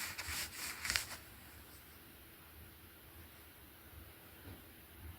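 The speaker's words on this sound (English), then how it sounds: "I'm doing a little scrubbing with my finger, just to kind of blur those different places in" A finger scrubs and blurs wet paint on a canvas while painting field flowers, giving a short burst of close, dry rubbing strokes in the first second before the room falls quiet.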